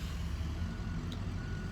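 A dump truck's reversing alarm at a materials yard sounds as steady repeated beeps at a distance, under a constant low engine rumble from heavy trucks.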